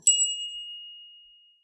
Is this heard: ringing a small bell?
yes